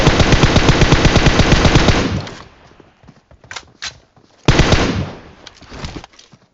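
Loud, rapid automatic rifle fire in PUBG Mobile comes as a sustained close burst, then a few scattered single shots, then another heavy burst that tails off, with almost no talking.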